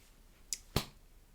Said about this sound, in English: I just clapped off camera.